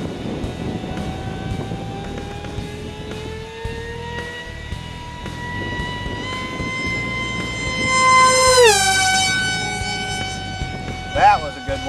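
MC-71 model plane flying a pass, a high whining engine tone rising steadily as it approaches, then a sharp Doppler drop as it passes close, with a brief whine burst near the end.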